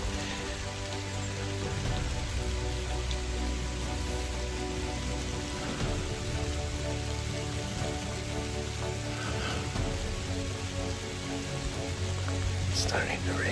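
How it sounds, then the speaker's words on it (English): Steady rain falls during a late-season archery hunt for black-tailed deer in Oregon, an even, continuous patter that fills the whole stretch without letup. "Starting to rain."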